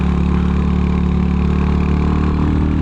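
A Royal Enfield Hunter 350 motorcycle engine pulls steadily up a hill in third gear, a loud, continuous low throbbing drone that holds an even pitch throughout without rising.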